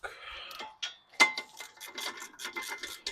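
Hand ratchet tightening the 19 mm brake caliper bolts on a 2023 Subaru WRX during a brake and rotor job, a close series of rapid clicking, rasping pawl strokes in short bursts with brief pauses.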